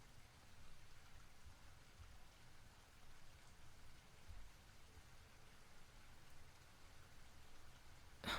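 Rain falling outside during a storm, a faint, even hiss of drops that runs on steadily with no voices.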